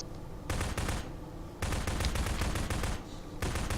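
Wiremod turrets in Garry's Mod fire in three loud, sustained bursts of rapid shots, separated by brief pauses.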